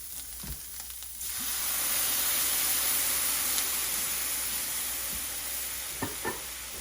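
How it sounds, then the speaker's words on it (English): Jumbo black tiger shrimp in a pan over high heat burst into a loud, sustained sizzling hiss as beer hits the pan, preceded by a few brief clinks, with a couple of light knocks near the end. "we're gonna deglaze it with a little bit of the beer, really high"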